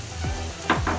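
Chilli potatoes with chili and soya sauce sauté in a pan, a steady close sizzle with two quick scraping stirs of a spatula.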